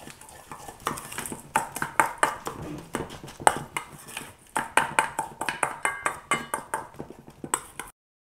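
Speculoos biscuit crumbs mixed in a bowl with a utensil, giving a quick run of sharp clinks and taps against the bowl, close and steady, with no talking.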